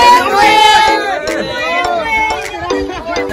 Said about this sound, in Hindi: देख सकते हो गाइस कितना ज्यादा भीड़ है भाई इधर